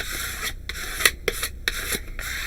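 Squeegee pressing tape down onto a mini album cover, a close series of short rubbing scrapes in uneven strokes, quiet and dry.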